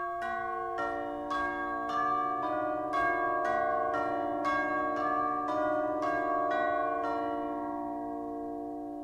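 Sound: large tubular bells or chimes played in orchestra

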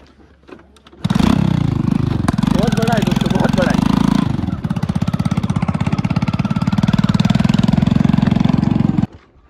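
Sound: motorcycle engine running

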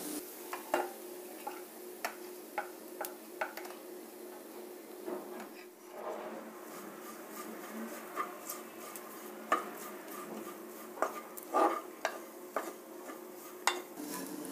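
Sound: stirring chutney powder into tempering in a pan

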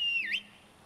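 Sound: horse whistle calling horse in video game Skyrim

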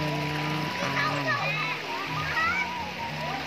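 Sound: children splashing and playing in clear river water

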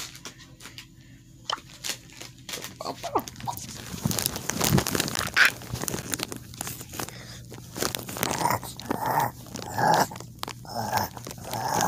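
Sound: dog in the video game Brawl Stars

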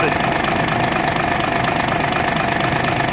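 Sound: MAN D0826 LOH18 engine running on first start

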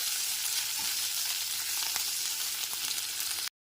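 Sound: ginger paste frying and being stirred into tempering

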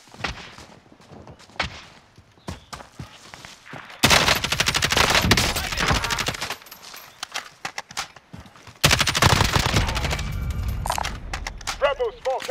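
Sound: small caliber gunfire in Call of Duty Modern Warfare video game

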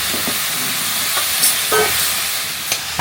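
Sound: stirring ridge gourd, onion and tomato in pan

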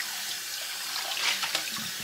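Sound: tap water rinsing a nonstick frying pan in the sink

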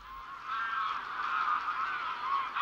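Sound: greylag geese honking

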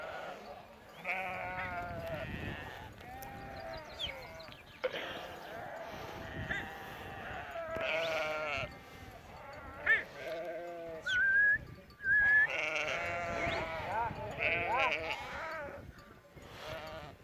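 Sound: sheep flock bleating

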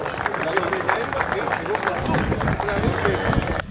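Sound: audience applause at a cattle show

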